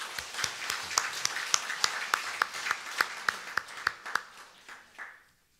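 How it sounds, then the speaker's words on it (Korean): A church congregation claps in rhythm together, a run of sharp evenly spaced claps that fade out at the end, with no talking over them. "우리 하나님께 영광의 박수 한번 드리겠습니다."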